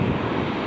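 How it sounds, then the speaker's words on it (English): Outdoor wind buffets the microphone in a steady, loud rumbling roar that fills the whole moment with no other sound standing out. "It's pretty windy, so don't know if you can hear me clearly or not."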